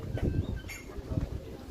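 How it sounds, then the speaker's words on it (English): Pigeons coo outside a hotel in soft, low, repeated calls at close range, over faint outdoor background noise. "There is birds. They look really funny."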